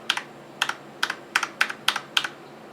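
Keys clack on a Logitech G910 Orion Spectrum mechanical keyboard, seven crisp, close presses spaced unevenly over under three seconds, each with a sharp click and a quick rebound.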